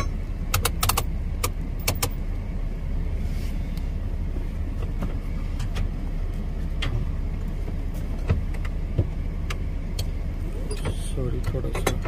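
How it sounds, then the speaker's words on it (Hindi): Someone gets into and drives a car after a doctor's visit: keys jangle, sharp door and seat clicks snap at intervals, and a steady engine and road rumble runs underneath, with muffled voices. "तो अभी घर जाने के लिए हम गाड़ी में बैठते हैं"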